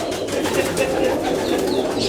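Teddy, Dubwale and Siyalkoti pigeons coo together in a loft, a steady layered murmur of soft calls that stays even and close throughout.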